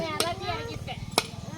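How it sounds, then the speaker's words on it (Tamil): Coconuts are cracked open during a village Pongal temple ritual, two sharp loud knocks about a second apart ringing out over the chatter of people talking nearby. "அப்பா தேங்காய் உடைக்கிறாங்க"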